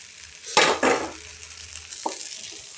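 Fried vegetables are stirred into flattened rice frying with a little sugar in a pan for pulao. Two sharp scraping strokes sound over a soft sizzle, followed by a single light clack of the utensil.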